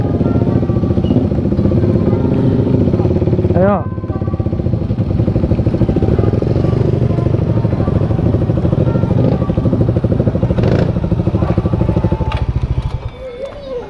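A Honda Beat scooter-style motorcycle ridden at speed, its engine droning steadily and loudly throughout with a brief pitch sweep early on, while a rider speaks briefly over it and the engine note drops near the end.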